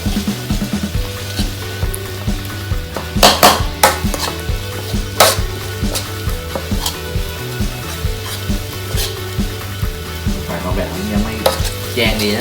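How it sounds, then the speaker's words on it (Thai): Chilies stir-fried in a pan for a holy basil stir-fry, loud steady sizzling with repeated scraping and clanks of a utensil against the pan, close up and without any talk. "แล้วก็ผัดพริกนะครับ"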